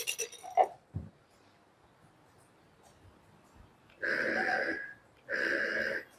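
Dice and plate rattled in a xóc đĩa game, two sustained bursts of clattering shaking, each lasting about a second, close and fairly loud after a quieter stretch with brief knocks.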